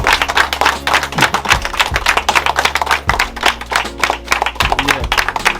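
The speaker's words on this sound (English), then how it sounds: "we also have to give a round of applause to Jamaica Good Life, Randy Pottinger" A round of applause fills the space at a home reveal in Jamaica, dense and loud with many hands clapping steadily, a few low thumps underneath and no talk.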